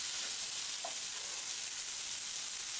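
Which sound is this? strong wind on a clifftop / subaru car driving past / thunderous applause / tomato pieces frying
tomato pieces frying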